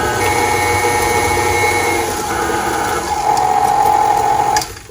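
An electric hand mixer whirs steadily through strawberry cupcake batter, a loud continuous close motor hum with slight pitch shifts, stopping abruptly near the end.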